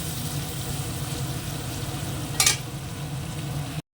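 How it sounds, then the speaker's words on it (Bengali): Onion frying in a pan for a home-cooked Bengali fish curry, giving a steady close sizzle throughout with a brief sharper hiss near the middle before it cuts off. "পেঁয়াজটা ভাজা হয়ে গেছে"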